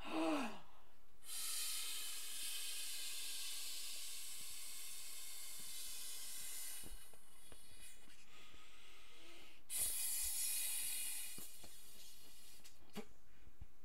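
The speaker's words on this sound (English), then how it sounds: "You bite in the plastic to open the valve, so the air goes in." Long, steady hiss of air rushing through a plastic valve into an inflatable, close and continuous, with short breaks and soft rustling between the bursts.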